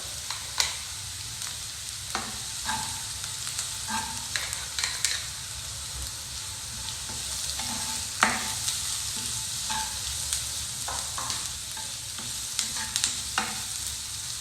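Onions with chili powder fry in a pan with a steady sizzle, while a spoon scrapes and stirs in scattered, irregular strokes throughout, close and moderately loud.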